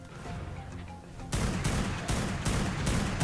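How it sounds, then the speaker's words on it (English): Toxic bullets fired from a gun in the video game Ark Primal Fear: after a quieter stretch of background ambience, a run of loud, close shots bursts out in quick succession. "We'll find out in a second when I shoot it."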